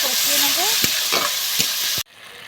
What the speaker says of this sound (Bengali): এবারে এর মধ্যে আমি এই ক্যাপসিকামটা দিয়ে দেবো